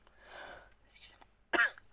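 A single short cough from a woman, close and sharp, following a few seconds of soft breathy vocal sounds.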